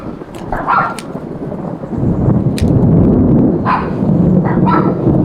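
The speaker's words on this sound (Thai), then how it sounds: "ฟ้าร้องนะครับหมาหมาเห่าเลย" A dog barks several times in short bursts over a deep rumble of thunder and steady rain.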